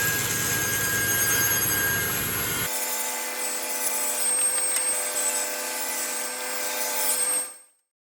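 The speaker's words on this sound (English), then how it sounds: "I'll set them against my saw blade, slide my fence over until it just touches, and now when I run it through" Table saw cutting wooden legs for an antique table reproduction, the blade whining steadily and loud as the cut runs through, with a deep rumble dropping away partway before the sound cuts off abruptly.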